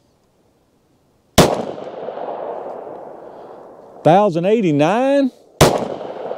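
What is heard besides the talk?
gunshots from a Glock 27 pistol firing Gold Dot rounds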